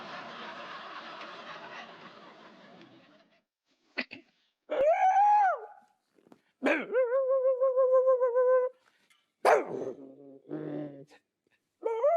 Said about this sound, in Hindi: कौन भौंक रहा है?